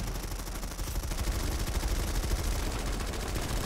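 Several players firing guns together in the Planetside 2 video game, a continuous loud rattle of rapid automatic shots layered over one another, steady from start to end.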